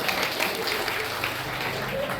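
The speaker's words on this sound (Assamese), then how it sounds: "ডাঙৰ হাত চাপৰি লাগিব, ডাঙৰ।" An audience at a school parents meet applauds in a steady, dense round of clapping with a faint murmur of voices underneath.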